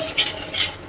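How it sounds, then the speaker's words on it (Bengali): Spice masala with coriander and Kashmiri chili powder being sautéed in a pan: two quick scraping stir strokes over a soft, close sizzle, no voices. "মশলাটা এই যে ভালো করে কষে নেব"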